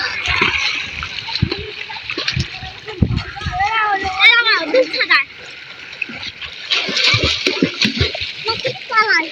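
Children splash about while swimming in a pond, with repeated irregular splashes and sloshing water close by, mixed with children's voices and talk throughout.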